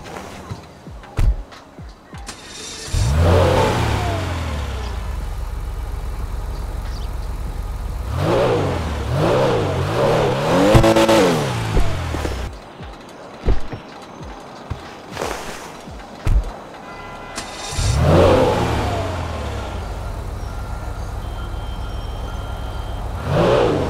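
Comet S2 Cabrio sports car engine in GTA 5 Online revving hard in several loud bursts, rising and falling, with quieter idling gaps between the runs.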